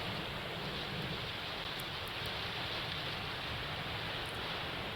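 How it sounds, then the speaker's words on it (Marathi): Heavy monsoon rain in Ratnagiri falls in a dense, steady hiss, with an even roar holding at the same level throughout and no voices. "रत्नागिरीमध्ये मोठ्या प्रमाणात पाऊस कोसळतोय"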